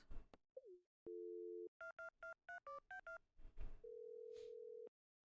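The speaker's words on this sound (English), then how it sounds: "I miss when phones made that noise." Telephone tones in the video game Stardew Valley: a dial tone, then a quick run of about eight dialing beeps, and a final steady tone, clear and alone.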